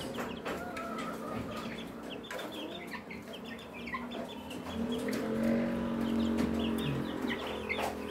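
Rhode Island Red chicks and ducklings peep and chirp steadily in a brooder, a dense mix of high calls running throughout at a moderate, close level.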